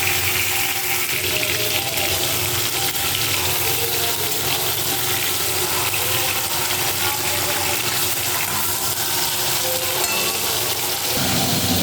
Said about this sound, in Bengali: তেলটা গরম হয়ে গেলে চারিদিকে ঝাঁকিয়ে নিয়ে মাছগুলো ছেড়ে দেবো।